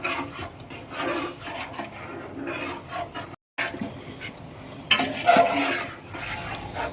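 Chicken biryani masala of cardamom, ginger, onion, garlic and chilli stirred in a pot, rough scraping and rubbing strokes with a short break midway, then louder clattering scrapes, close and without talk.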